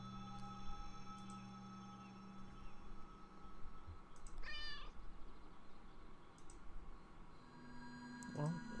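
A cat meows once in the video game Kentucky Route Zero, a short rising call over a quiet ambient hum with faint clicks and a soft tone near the end.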